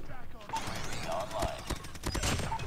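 Rapid rifle gunfire from an assault rifle in the mobile shooter game Call of Duty Mobile, several quick bursts of shots layered over game sound effects and faint background audio.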